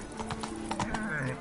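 Hooves of a horse clip-clopping in a video game, a quick quiet run of hoof beats with faint background game sound.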